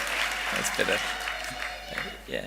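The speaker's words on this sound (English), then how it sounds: "give yourselves a big round of applause" Graduation audience applause, a moderate wash of clapping from a hall crowd with a voice speaking over it intermittently.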